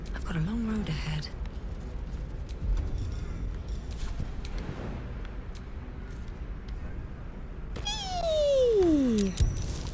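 A cat in a video game lets out a couple of meows, one early and a long falling yowl near the end, over ambient game sound with someone talking throughout.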